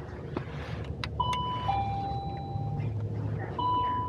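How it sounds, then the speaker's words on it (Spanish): A doorbell chimes in short two-tone dings at a shop entrance, moderately clear over steady street traffic rumble, with a further chime near the end. "Pues eso me dijeron, que tocara el timbre."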